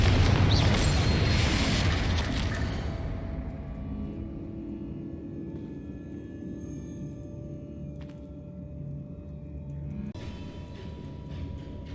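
Magic spell blasts in the Hogwarts Legacy video game: a loud booming explosion at the start that rolls off into a long, fading rumble with faint lingering debris and ambient hum.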